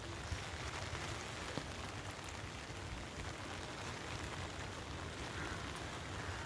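Steady rain pattering on leaves and plants, a dense continuous hiss with occasional louder drops, no voices.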